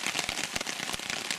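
Heavy rain falling during a backpacking trip in Pennsylvania, a steady dense patter striking close by and mixed with sharper drop hits, holding at a constant level throughout.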